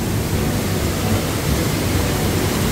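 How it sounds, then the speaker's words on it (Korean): Water gushing out between rocks in a narrow mountain valley stream gorge, a dense, continuous loud rushing wash with no pauses and no voices. "계곡의 모습이 있는 이 멋진 바위 사이로 이렇게 물이 막 뿜어져 나옵니다"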